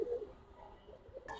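Pigeons in a loft give soft, low coos, a few brief calls close by over quiet background, ending with a short rustling burst.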